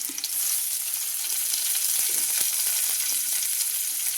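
Shallots, dried red chillies and curry leaves fry in coconut oil with a loud, steady, close sizzle that holds without a break, a few faint stirring knocks underneath.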